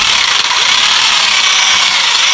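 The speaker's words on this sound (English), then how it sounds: "I'll take a power drill, and then I'm just going to cam the head out on this thing" A power drill spins steadily to flare the head of a rivet on a leather axe sheath, giving a loud, continuous high whir that holds unbroken from start to finish.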